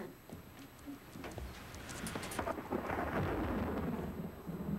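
Low rumbling thunder rolls on and grows louder, with a steady hiss of rain building underneath and a few faint bird calls.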